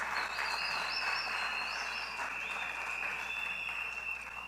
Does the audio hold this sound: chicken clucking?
no